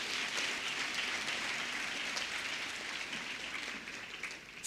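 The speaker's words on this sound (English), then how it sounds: "give a round of applause for these students that were celebrated today" A university audience at an academic year opening applauds celebrated students, a steady, dense wash of clapping that fades gradually near the end.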